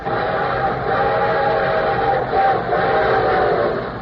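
A train rumbles along steadily while a whistle sounds in long sustained tones over it, fairly loud, with no talking.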